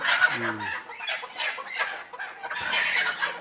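Several native country chickens on a poultry farm cluck in short, busy bursts, with one low throaty call standing out early on; a lively poultry-yard bustle with no speech.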